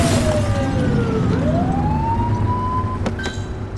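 Police car siren in the GTA-style game The Precinct, a loud wailing tone sweeping down and back up over engine rumble, ending with short yelp bursts.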